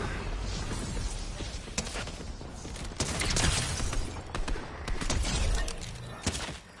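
Fortnite gunfire crackles in a fusillade of sharp shots with heavy thuds, a dense and loud exchange that swells midway and eases off near the end, without any talking.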